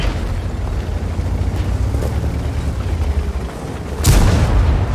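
Tank cannon fire in the World of Tanks game: a rumbling battle bed, then one loud, sharp blast near the end as a shell strikes enemy armor.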